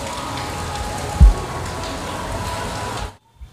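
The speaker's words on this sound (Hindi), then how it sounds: "देखो बहुत तेज़ बारिश हो रहा है" Heavy rain pours steadily on a surface where water has pooled, a dense, even hiss with one brief low thump partway through, cutting off abruptly near the end.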